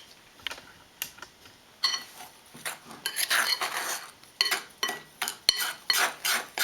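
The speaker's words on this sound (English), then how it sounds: "Just mix these up before I incorporate the wet ingredients." Dry sweet potato muffin ingredients are mixed in a bowl, producing irregular clinking and scraping taps of a utensil against the bowl, close and distinct with short pauses between strokes.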